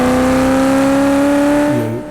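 A 1989 Ferrari F40 twin-turbo under hard acceleration, heard as a loud, steady tonal engine drone that holds and then drops away near the end, with no voices.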